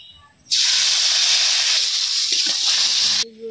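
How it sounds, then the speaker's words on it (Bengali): Cumin, turmeric, chili powder, salt and ginger paste hit hot oil in a pan with a sudden loud hiss. The sizzle holds steady for about three seconds, then cuts off abruptly. "এখন সবগুলা মশলা কষাই নিতেছি।"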